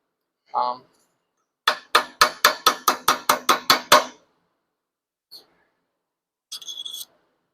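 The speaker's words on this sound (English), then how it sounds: "we're just going to give her a few little taps with the hammer" About ten sharp metallic taps of a hammer on a silverware spiral ring in a quick, steady series, each with a brief ringing tail, preceded by a short murmur and followed by a couple of faint clinks.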